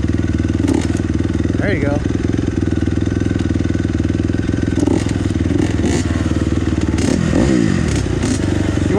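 A motocross dirt bike idles steadily and loudly at a track, its engine running throughout with a few clattering bumps, while a person speaks briefly nearby.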